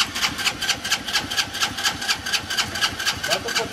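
An engine being cranked by its starter motor churns in a steady rapid rhythmic whir, loud and close, with a carburetor fed gasoline by hand as it tries to catch.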